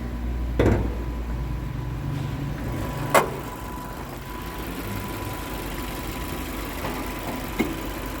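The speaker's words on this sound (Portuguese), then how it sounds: "O carro está funcionando bonitinho, sem vazamentos" Car engine idling steadily after overheating and being repaired, a low even hum held throughout with a few brief knocks and clicks nearby.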